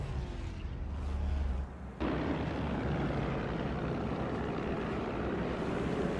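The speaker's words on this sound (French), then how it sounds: "Ce maudit dirigeable va bientôt survoler Londres." A German airship's engines in the World War I game Battlefield 1 drone in a loud, dense, continuous rumble, with a sudden jump to a heavier, fuller roar partway through and no talking.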